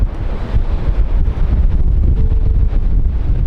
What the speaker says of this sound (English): Hopefully we have less wind